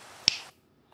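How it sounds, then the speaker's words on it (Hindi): A single sharp finger snap, close and crisp, standing alone in a quiet moment. "बस एक एक चुटकी बजा के"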